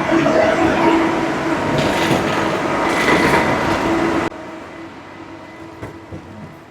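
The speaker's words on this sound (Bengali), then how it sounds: "এই যে আমাদের ট্রেন দাঁড়িয়ে আছে, আমরা এটাতেই উঠবো" A KLIA Express airport train stands at a station platform with a loud, steady rumbling hum that drops abruptly to a quieter background drone partway through.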